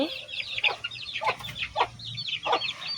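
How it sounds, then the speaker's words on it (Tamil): A hen clucks among her newly hatched chicks, which peep in quick, high, repeated bursts, all close by and fairly loud with no talking. "கோழி வந்து கோழி குஞ்சு இருக்குது"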